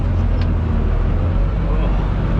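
Wheels of a farm vehicle spin in sand on a hill during fall manure hauling, a heavy, continuous low rumble of engine and churning tyres that holds steady for a couple of seconds.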